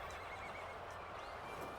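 A horse neighs in the Dynasty Warriors: Origins video game, a faint, drawn-out whinny set within a steady battlefield rumble with soft hoof clatter and no speech.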